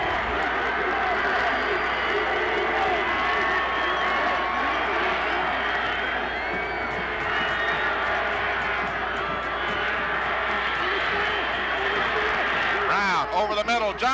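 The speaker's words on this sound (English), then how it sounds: "Again, the crowd is on its feet." A football stadium crowd on its feet cheering during a late-game Hampton Crabbers versus Bethel Bruins drive, a loud, sustained roar of many voices holding steady the whole time.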